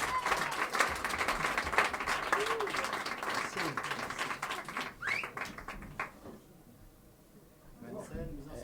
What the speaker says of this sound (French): Je vous demande d'applaudir Nicolas Bograc.